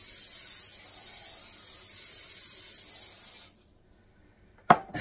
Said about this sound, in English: now we're going to spray the bottom of an 8x8 pan